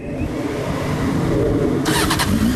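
A motorcycle engine cranks and fires up while being readied for a burnout, a steady engine rumble running throughout with a brief louder burst of noise near the end.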